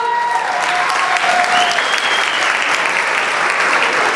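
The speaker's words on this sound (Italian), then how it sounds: "Facciamo un applauso" Audience applause fills a Christmas concert hall, dense and sustained clapping from a large crowd that holds steady throughout, with faint voices underneath.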